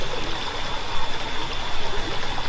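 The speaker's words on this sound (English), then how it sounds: "It's no surprise to see the creek is running high." A creek running high after a thunderstorm rushes steadily and close by, a dense continuous wash of flowing water with no talk over it.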